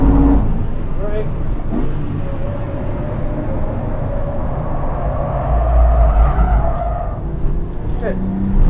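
A lightweight Porsche 997 Carrera 2S brakes hard on a race track. A loud in-car engine drone runs throughout, with a rising tire squeal through the middle, and a voice talks over it.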